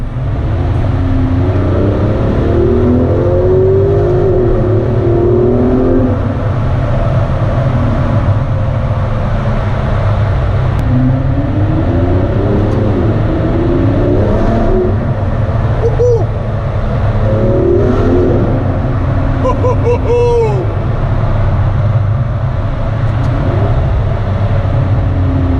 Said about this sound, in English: Let's hear what the DB11 sounds like in a confined space.